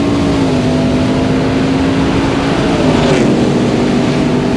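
Supercharged Ford F-150 pickups, including a Lightning, drag race, producing a loud, steady engine roar with a high whine held close throughout and a slight rise midway.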